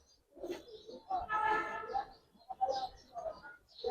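Pigeons, including a female Giribaz-type pigeon, softly cooing up close in bursts, with low murmured talk mixed in.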